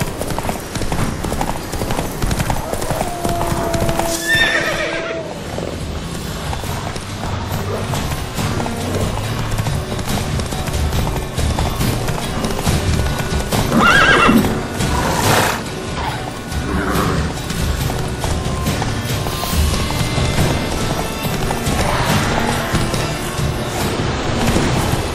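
Roach, a horse in The Witcher 3, gallops with steady rapid hoofbeats throughout, with a brief neigh and some game sounds layered over the continuous clip-clop.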